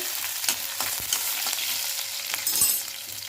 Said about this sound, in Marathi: कुटून घेतलेला लसण टाकायचं चार हिरवी मिरचीचे तुकडे टाकून घ्यायचे